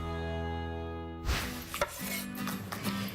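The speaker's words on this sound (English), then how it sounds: "what I'm doing is I'm cutting the end so I can get a stable sort of grapefruit" A knife slices the end off a grapefruit in a few sharp, close thunks against a cutting board, after soft tonal music cuts off.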